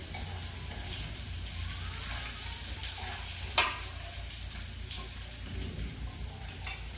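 Cumin seeds sizzling in hot ghee in a pan on a stove, a steady soft frying hiss with faint stirring clinks throughout, one brief sharper scrape midway, no talking.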